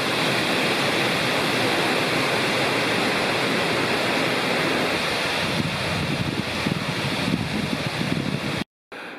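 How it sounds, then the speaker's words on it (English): Continuous rushing roar of Foster Falls waterfall in South Cumberland State Park, Tennessee, steady and broadband, with no voices, briefly cutting out near the end. "Foster Falls, beautiful waterfall, and a little pool down below."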